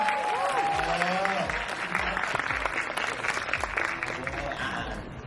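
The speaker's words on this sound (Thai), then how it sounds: "ขอเสียงปรบมือใหพี่พี่ชมพู่ด้วยครับ" A crowd at a live special stage show in Thailand breaks into steady, continuous applause, loud and close, with a voice speaking over the start of the clapping.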